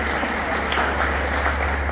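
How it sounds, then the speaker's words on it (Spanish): A church congregation at a Spanish-language service claps together in a steady, even wash of applause, moderately loud over a low constant hum in the room. "Denle ese aplauso a Dios"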